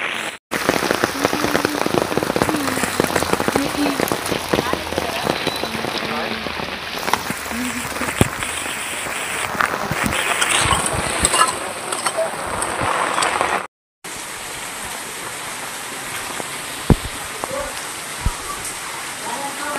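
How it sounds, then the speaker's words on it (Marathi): Heavy rain pours steadily in the Konkan, a dense broadband hiss with scattered drop impacts that runs almost the whole time, broken by one short gap, with some faint talk mixed in. "खूप पाऊस आहे अजून"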